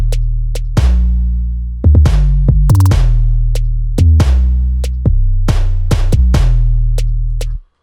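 A trap beat loops a snare sample from a drum kit, with sharp snare cracks punching over heavy sustained 808 bass notes, loud and upfront in a repeating pattern with no talking.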